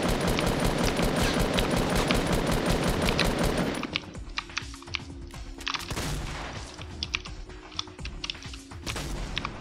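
Rapid automatic gunfire from a Fortnite match fills the first four seconds densely and loudly, then gives way to scattered single shots and bursts with clicky handling sounds, no talk.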